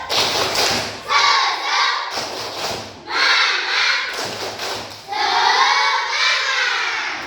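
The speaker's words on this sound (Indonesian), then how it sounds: "Tepuk semangat." A class of pupils doing a rhythmic spirit clap chant, loud and close, with sharp clap bursts alternating with shouted, sung chant phrases in repeated cycles.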